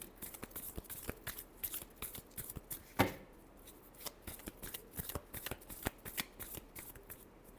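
Tarot cards are shuffled by hand close up, a rapid run of crisp riffling flicks with a sharp slap partway through, continuing in quick irregular bursts.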